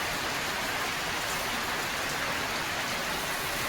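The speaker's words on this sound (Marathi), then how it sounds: "आमच्याकडे बघा किती पाऊस येतोय" Steady heavy rain hisses continuously, a dense even wash of falling water with no pauses.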